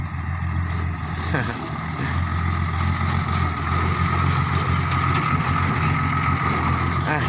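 A Komatsu PC130-8 excavator engine runs steadily at a worksite pond, a continuous mid-low drone with a faint higher whine, holding constant throughout.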